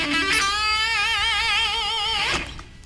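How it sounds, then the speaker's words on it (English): A distorted electric guitar plays a sustained lick with heavy vibrato that wavers throughout, then ends in a short flurry of notes. It is loud, close and continuous, with no talking. "Try it again with some distortion."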